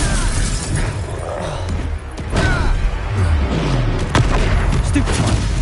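Blasting spell effects in the Hogwarts video game, with loud bursting, crashing impacts and a shattering hit amid continuous dense battle noise, with some voices mixed in.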